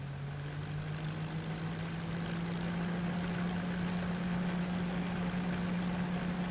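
A 1957 Allis-Chalmers D14 tractor engine drones steadily as the power takeoff drives a harvester, a low hum rising slightly in pitch. It is fairly quiet, with no speech.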